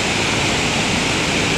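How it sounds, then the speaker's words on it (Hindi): Fast-flowing water at a gate of the Bokaro Thermal Power Plant rushes loudly and steadily in a dense, close roar, like a waterfall, with no break throughout. "और पानी का बहाव काफ़ी ज़्यादा यहाँ पे तेज़ है, नीचे में देख सकते हैं।"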